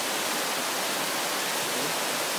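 Bani Falls roars as a dense, constant wash of falling water, loud and close, with no voices over it.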